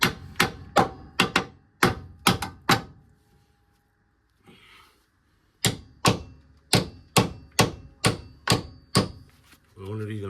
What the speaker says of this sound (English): The only reason I'm hammering this bolt in is because I want to get another one